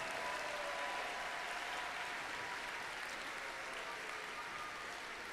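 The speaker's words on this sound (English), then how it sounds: "Let's give the judges another huge round of applause for all their hard work this weekend." Sustained applause from a large crowd in an arena, honoring the judges at a FIRST robotics state championship in Michigan; steady, dense clapping that fills the whole stretch with no pauses.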